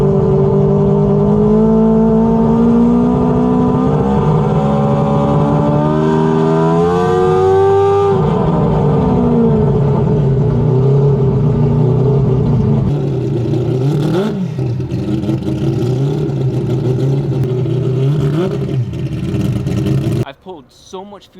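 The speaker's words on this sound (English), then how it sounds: "So we're gonna go ahead and do some free revving and see if this thing responds better." An AWD four-rotor rotary engine car free revs on a 1000 hp dyno, its loud buzzing note climbing and falling through several sustained revs before the engine cuts off abruptly near the end.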